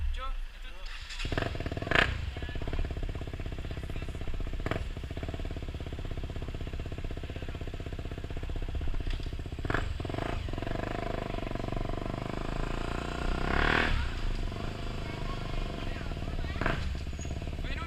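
A KTM 125 Duke motorcycle engine runs steadily nearby, with a rougher buzzing rise around the middle suggesting revving in first gear, while people talk over it throughout.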